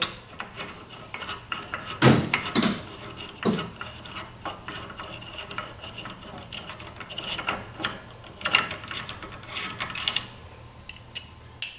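Ratchet clicking and metallic rubbing as lug nuts come off a wheel spacer on a Tesla Model 3, with close, steady mechanical sounds and a few sharper clanks.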